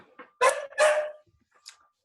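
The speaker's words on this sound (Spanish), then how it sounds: "mis perros están ladrando" Dogs barking in a home during an online class: two loud, broad bursts close together, then a softer third bark, with no talk over them.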